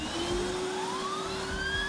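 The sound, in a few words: Polti Vaporetto Lecoaspira vacuum turbo brush turbine whirring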